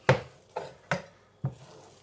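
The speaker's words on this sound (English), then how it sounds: "Just use the edge of your knife and just flatten it out." Knife edge pressing and flattening bacon rashers on a board, four soft close taps spaced about half a second apart, alone without talk.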